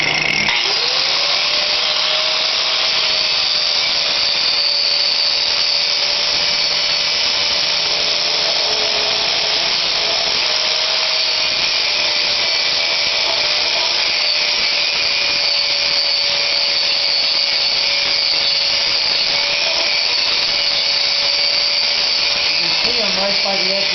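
An angle grinder working a body panel on a 1986 Jeep, cutting it to size, a loud sustained high whine with a steady pitch and gritty abrasive hiss, running continuously close up and winding down at the very end.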